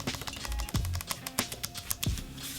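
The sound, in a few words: pressing the flat keys of a CME Xkey MIDI keyboard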